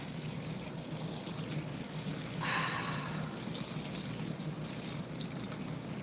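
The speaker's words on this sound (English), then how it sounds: "I gotta put the water in here." Water pours into a container in a short, quiet stream lasting about a second, against a faint steady background.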